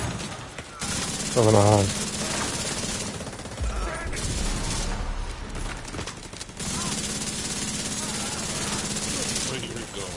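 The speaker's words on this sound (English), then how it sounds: "Turret tower shots." Turret tower gunfire in The Division 2, dense rapid automatic shots rattling continuously through a busy game soundscape, with a brief spoken phrase near the start.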